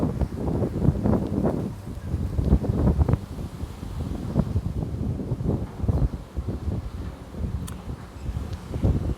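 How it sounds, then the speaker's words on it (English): Wind blows across a microphone on a beach, a steady low buffeting rumble that swells in gusts and runs throughout with no talking. "Oh, this wind."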